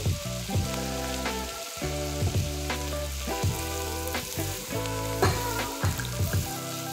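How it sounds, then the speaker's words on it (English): Bacon renders in a hot pan, giving a steady sizzle broken by repeated clinks and scrapes of a utensil against the pan at an uneven rhythm, close and clear without voices. "heat up a pan and render them until they are golden and crispy"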